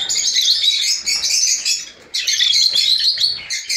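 Lovebirds of green and yellow colouring, young breeding stock in a flock, chatter in a dense, continuous stream of high chirps and squawks, loud and close, with one brief dip in the middle before the twittering resumes.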